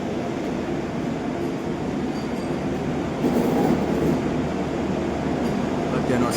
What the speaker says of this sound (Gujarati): વંદે ભારત ટ્રેન નીકળી છે